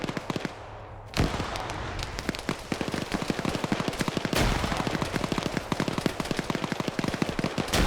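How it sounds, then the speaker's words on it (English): Gunfire in an Arma PvP match: a sharp crack opens, then rapid automatic bursts rattle almost continuously, loud and near, with a second sharp report midway and scattered distant shots behind. "Samuel's getting harassed over there with bullets."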